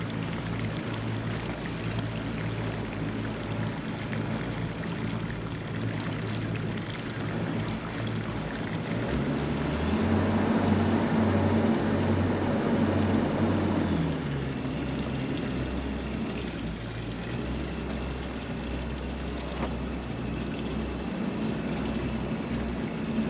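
Boat maneuvering forward into a dock slip with lateral thrusters, against a light current pushing it off; a low steady engine drone with a heavier rumbling thrust burst in the middle, no talk.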